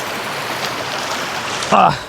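Forest river water rushes and gurgles in a steady close wash while someone wades across the stream, with a voice speaking over the flow and a brief louder splash near the end.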